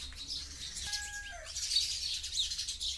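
A bird calling from a perch above, a few faint high chirps and one short drawn-out whistle, distant over soft background hiss.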